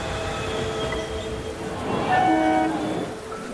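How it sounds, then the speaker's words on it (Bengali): A train rumbles at a station with a steady low roar. Several sustained horn tones sound over it, swelling louder midway before easing off. "আচ্ছা, এই ট্রেনটা যাবে তো?"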